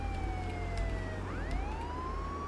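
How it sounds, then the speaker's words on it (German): A police car siren in the video game Contraband Police wails in a steady rising and falling tone, moderately loud over a low engine hum, with a smooth electronic quality. "Schon hätte ich Sirene anmachen können"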